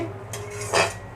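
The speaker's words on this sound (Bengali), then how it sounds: "আলুর সাথে ভালোভাবে আমি মিশিয়ে একটু নাড়াচাড়া করে নেব।" A potato mixture for banana stem kofta is stirred in a pan, with a brief metallic scrape of a utensil against the pan and a louder rasp near the end.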